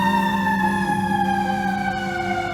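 An ambulance siren wails steadily outside, loud and continuous from start to finish with a slowly falling pitch, with no talking over it.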